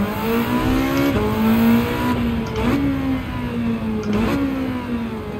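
Fully tuned Mitsubishi Lancer Evolution IX in Gran Turismo 7 on a Tokyo expressway, engine droning at steady high revs with three brief shifts, a loud continuous game engine note without talk.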